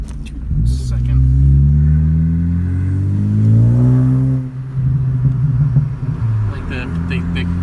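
A catless Ford Focus ST revs up and drops back while its exhaust rumbles close and loud, followed by scattered pops and crackles; someone talks over the end.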